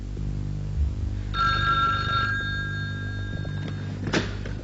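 An old telephone bell ringing indoors, a single steady trilling ring of about a second over a low background hum, followed by a click as the receiver is lifted.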